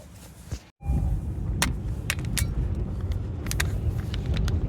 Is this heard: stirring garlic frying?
no